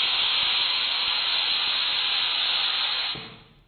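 A loud, steady hiss of steam jetting from a pressure cooker whistle while cooking rasam rice, continuous for about three seconds before it quickly fades away.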